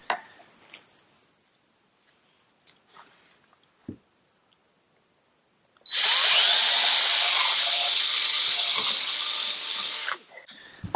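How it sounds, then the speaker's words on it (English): After a few quiet taps and knocks, a power drill whirs loudly and steadily for about four seconds, close up, pre-drilling holes in a composite exterior door, then stops. "I like to pre-drill all my holes on this side"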